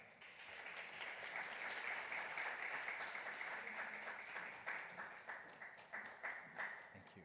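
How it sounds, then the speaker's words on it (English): Conference audience at a SIGEF event applauds as a speaker is called onto the stage, steady clapping that swells and then breaks into sparser individual claps. "I would like to call on stage, under your applause, Maria Cristina Madriaga."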